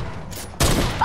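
Burst of gunfire from Fortnite weapons, a loud broadband blast that starts abruptly and holds, with a brief quieter burst before it.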